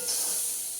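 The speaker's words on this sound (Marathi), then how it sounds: "आता जरा कांदा भाजून घेते" Onion sizzling in hot oil with chili and curry leaves, a bright, even hiss held close and loud for under a second.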